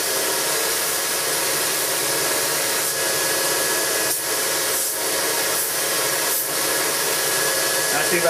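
A Burr King 760 belt grinder runs with a steady broadband whooshing hiss as steel is ground against the contact wheel, holding level throughout with a few faint pulsing passes.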